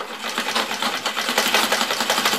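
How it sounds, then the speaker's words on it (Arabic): A sewing machine stitches the shoulder seams of a dress, running continuously with a fast, even mechanical chatter close to the microphone, unbroken for the whole stretch. "ودابا جيت باش نجمع فوق الكتاف بالماكينه"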